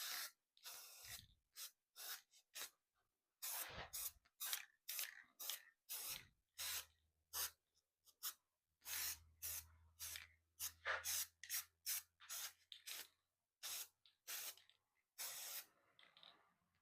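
Bursts of aerosol spray finish hit a forged metal candle stand in quick repeated hisses of varying length, close and fairly loud, separated by brief silences, with a low hum under the middle stretch.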